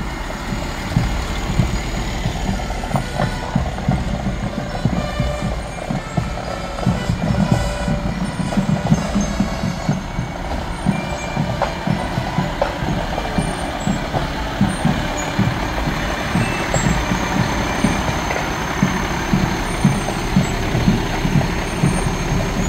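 Darien Fire Department fire engines, Engine 42 and Rescue 44, rolling past in an anniversary parade, a loud continuous diesel rumble with idling engine throb and faint higher tones above, close and sustained without talk.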